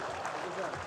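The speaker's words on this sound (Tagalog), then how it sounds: "palakpak pa tayo ganun" Crowd applause at a hospital groundbreaking ceremony, a brief burst of dense, steady clapping with a voice speaking over it.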